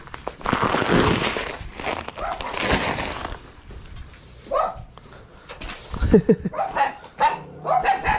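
Dogs bark and yip in noisy bursts, fairly close, with some whimpering; people talk intermittently in the background.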